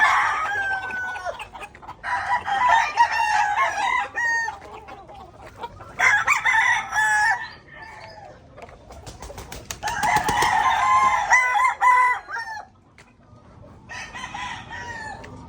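Backyard chickens clucking and a rooster crowing in loud bursts, several overlapping calls with short pauses between, close by, while the birds are being bathed at home.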